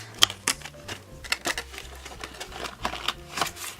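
Crinkling plastic and cardboard of a package of star-shaped Christmas lights being opened, a run of quick irregular clicks and rustles close by.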